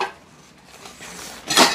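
Camping cookware from a Naturehike set, plates, pots and pans, knocked together, a soft low handling rustle building to a bright metallic clatter near the end, close and alone.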